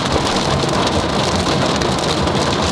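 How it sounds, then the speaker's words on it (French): Dense, steady pelting of hail on a surface in Pau, France, a continuous loud hiss with no let-up and no voices. "en fait regardez, il grêle."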